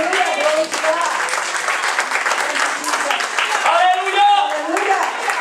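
Congregation applauding during a bilingual Spanish-English church sermon, continuous clapping blended with voices and cheering at close range.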